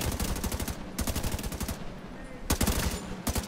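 Rapid automatic gunfire in The Division 2 comes in several quick bursts separated by short pauses, sharp repeated shots at moderate volume with no talk over them.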